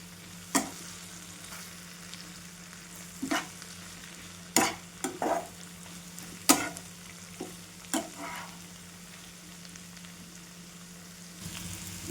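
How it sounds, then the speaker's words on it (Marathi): Bitter gourd pieces and onion stir-fry in a pan, a steady soft sizzle with irregular sharp clacks of a spatula scraping and turning the vegetables, close and with no talk. "तर एकदा बघूया झाकण काढून. पुन्हा परतून घेऊया एकदा."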